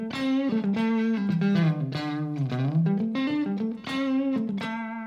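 PRS Modern Eagle electric guitar on the neck pickup, played through effects with distortion and chorus, giving a loud sustained melodic line of bent, gliding notes with no talking.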